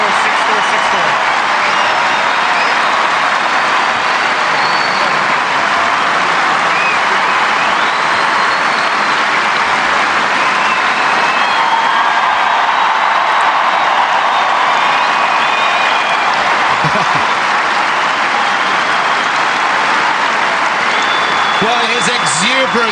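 Wimbledon crowd applauding Tsonga after his quarterfinal win over Federer, dense sustained clapping and cheering from a large stadium audience, loud and unbroken throughout with a commentator speaking over it.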